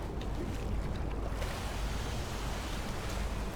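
Steady broadband wash of water with a low rumble fills the whole stretch, like a character dropping into and wading through water in Skyrim, continuous and fairly loud with no talk.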